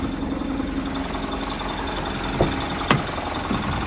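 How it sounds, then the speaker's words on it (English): Mitsubishi Fuso Canter 3.0 TD double-cab tipper truck, a 2015 diesel, idling steadily at a constant low rumble with a few faint knocks and clicks over the top. "Okay, so let's leave it running,"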